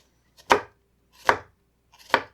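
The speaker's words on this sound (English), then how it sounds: "So I just make a cut across the top, and then I make a few across the sides, and then I chop it up." Three evenly spaced knife chops hit a cutting board, crisp and close, as vegetables are cut finely for low-sodium pico de gallo, with quiet gaps between strokes.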